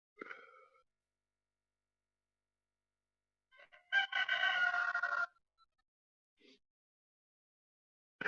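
A rooster crows once in a long, loud call, preceded by a brief cluck and followed by short faint clucks, with quiet gaps between.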